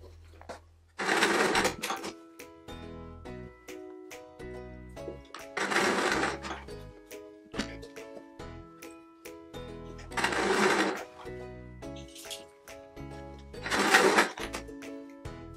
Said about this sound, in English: step is to stitch together the yellow spot to my midnight floral